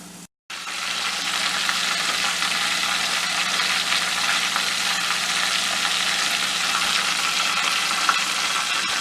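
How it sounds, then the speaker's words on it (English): Fresh caught crappie frying in hot oil, making a loud, steady, close hiss and crackle that starts after a brief moment of silence and keeps up without pause, with no voices. "Jump right into frying fresh caught crappie from yesterday for breakfast"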